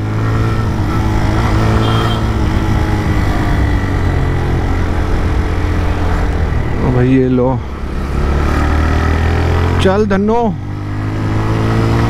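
A newly bought motorbike on an open road during a test ride, its engine droning loudly and steadily as it accelerates through the gears, with short spoken remarks from the rider partway through.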